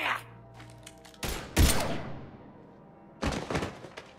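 Bursts of gunfire in the Mass Effect 3 video game, with several loud, sharp volleys separated by quieter gaps and booming impacts.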